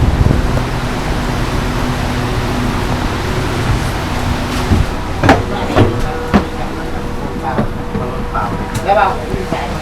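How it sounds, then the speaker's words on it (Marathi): A train rumbles steadily with clanks and brief bangs as it runs on through heavy flooding in Songkhla Province, Thailand, its low drone easing toward a halt while voices talk over it. "आता आपली ही ट्रेन इथेच आता थांबणार आहे"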